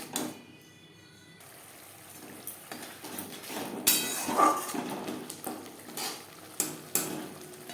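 Masala paste with a little water fries in a pan for a Tilapia fish curry, giving a faint sizzle under repeated spoon scrapes and clinks against the pan.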